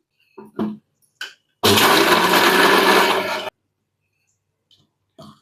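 A kitchen mixer grinder whirs loudly for about two seconds, grinding coconut chutney ingredients with salt and garlic, with short bursts of speech before and after.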